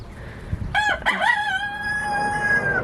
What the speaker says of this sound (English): There's a chicken over here.